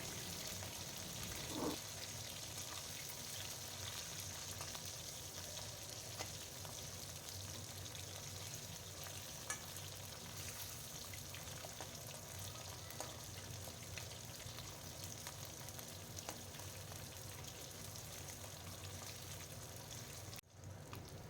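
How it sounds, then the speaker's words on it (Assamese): Pieces of catfish fry in hot mustard oil in a wok, giving a faint, steady crackling sizzle that continues evenly throughout. "এয়া তেল গৰম হৈ লোৱাত এতিয়া মই ইয়াতে শিঙি মাছখিনি দি দিছোঁ"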